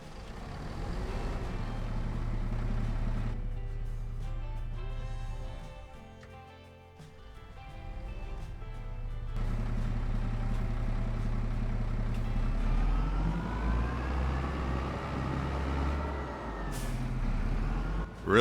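A large farm tractor's engine runs in the Farming Simulator 25 video game with a steady, loud, deep rumble. It briefly drops and softens midway, then comes back up and rises in pitch as it revs, ending in a sharp click.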